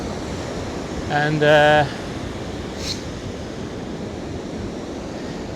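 Waves washing onto Hellestø beach, a steady broadband rush of surf mixed with wind noise throughout, while a voice speaks briefly near the start.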